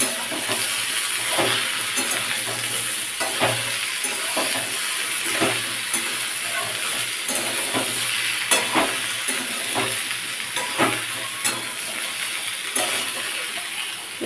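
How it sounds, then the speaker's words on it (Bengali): Ridge gourd with poppy-seed paste frying in oil in a wok, a steady hiss of sizzling broken by repeated scrapes and clinks as a spoon stirs, close and continuous. "একটু নাড়াচাড়া করতে করতে আমি আরও একটু তেল দেবো যেহেতু আমার কড়াই তেল কম ছিল"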